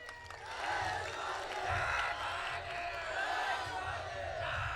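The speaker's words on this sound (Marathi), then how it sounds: "या टाळ्या आणि ह्या गर्जना" A large crowd at a 2009 political rally in Achalpur roars and cheers continuously, a loud massed swell of shouting and whooping that rises and falls without a break.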